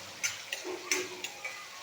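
Onion and tomato fry in hot tempering oil, a soft steady sizzle broken by a few light clicks and taps of a spoon against the pan, close by with no talk.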